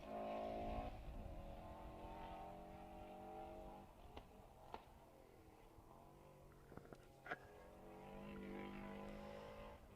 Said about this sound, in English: That does sound incredible, that car.